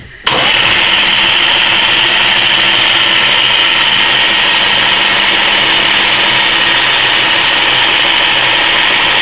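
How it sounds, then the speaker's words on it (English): A centre lathe drilling with a 5mm twist drill runs as a loud, steady mechanical whir. It starts abruptly and holds constant throughout with no talk. "now wind it back every so often to stop the swarf clogging up the drilled hole"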